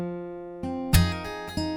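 Fingerpicked acoustic guitar phrase from a song, with a few plucked notes, a louder percussive slap near the middle and another pluck, ringing closely with no voices.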